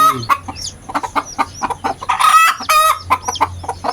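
Hen brooding on a nest of eggs, clucking repeatedly in short bursts with a few louder squawks, close and clear, with other chickens faintly around.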